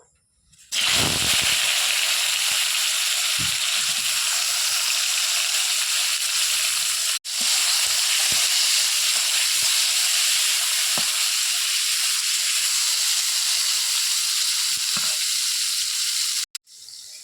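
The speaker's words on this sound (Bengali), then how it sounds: "তেল গরম হয়ে গেছে এরপরে পটলগুলো ভেজে নেব" Pieces of pointed gourd (potol) dropped into hot oil in a wok, bursting into a loud, steady sizzle that holds almost without break, with a brief dip midway and a few soft stirring knocks.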